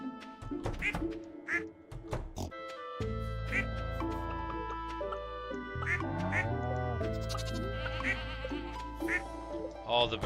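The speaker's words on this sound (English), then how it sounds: "All the birds are happy." Farm animals in the Stardew Valley video game give repeated nasal quacks and bleats mixed with game music and effects, with a steady low drone under the whole stretch.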